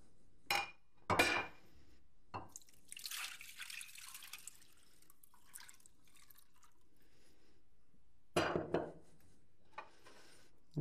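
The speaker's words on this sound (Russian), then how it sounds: "Я переброшу меньшую посудину и залью этим сиропом." Clinking of dishes and a few sharp knocks as homemade bream and roach herring is moved to a smaller dish, followed by a soft stretch of pouring syrup, then more clatter near the end.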